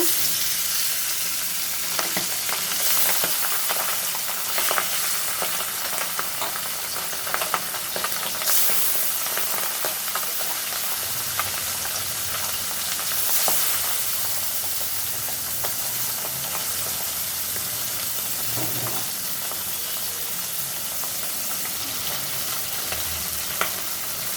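Fish sizzling steadily in hot oil in a home kitchen, a continuous loud crackle with scattered sharper pops and occasional stirring clatter, no voices.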